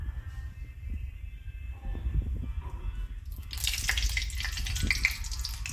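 Fish frying in oil in a wok, with a steady sizzle that bursts into a louder, bright crackle partway through, close by with no talk.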